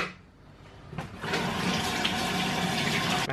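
A kitchen tap runs steadily while hands are washed mid-recipe, a close, continuous rush of water that starts after a brief thump and fills the rest of the moment.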